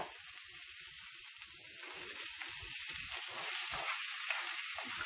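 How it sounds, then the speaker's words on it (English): Lemon chicken and rice cooking in a pot with salt added, giving off a steady, soft bubbling sizzle that carries alone without any voices and grows slightly stronger toward the end. "we're going to let this simmer down"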